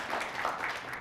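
A small audience applauds David, the website designer for the state's attorney's office, with a soft, even wash of clapping at a distance and no talk.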